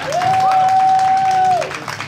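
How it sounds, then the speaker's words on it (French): Spectators at a sabre fencing championship during a geek convention applaud, with a loud electronic scoring beep holding for over a second over the crowd clapping, which fades afterward. "Bravo, on les applaudit"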